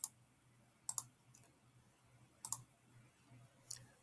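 Computer mouse clicks, crisp and close, arriving in quick pairs and singles with short pauses between them, over a quiet low hum.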